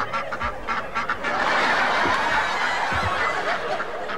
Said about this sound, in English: Will you get these ducks off the stage?